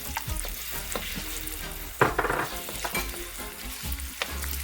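Onions and tomatoes fry in a pan with scallion, a close crackling sizzle broken by a few sharper scraping stirs, no voices over it.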